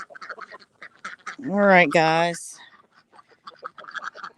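Domestic ducks in a backyard garden quack loudly in a burst of several nasal calls close by, mid-clip, while a person talks briefly before and after.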